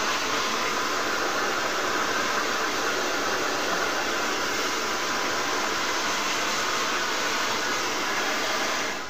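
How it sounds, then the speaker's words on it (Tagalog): A hair blow dryer running during a hair treatment at a salon, giving a steady, loud, close-up whooshing roar without pause and with no talk over it. "mag-blower na mi."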